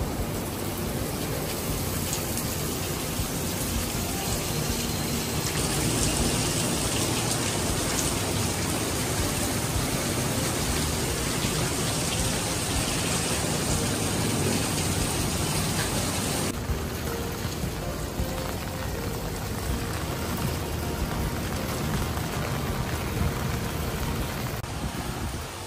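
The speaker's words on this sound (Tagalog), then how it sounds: "Lumakas na lalo yung ulan." Heavy rain pouring down in Bago City, Negros Occidental, near the city church: a dense, continuous hiss of drops striking surfaces, steady and loud for the whole stretch, with no voices.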